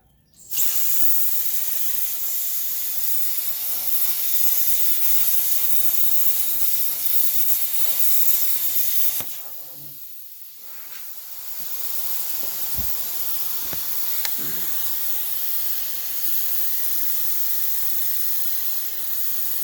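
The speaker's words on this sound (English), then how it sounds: "I'm gonna put my plasma cutter in here, guide it, and hopefully I'll end up with a 1/2 inch hole" A plasma cutter cutting a half-inch hole in steel for a truck flatbed bed mount gives a loud, steady close hiss that stops briefly, then resumes as a slightly softer continuous rushing hiss.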